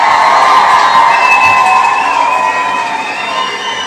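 A live-show crowd cheers and whoops continuously, loud and close, with shrill voices layered over a steady roar that eases slightly toward the end.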